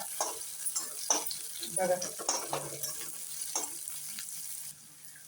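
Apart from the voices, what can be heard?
onion frying in a pan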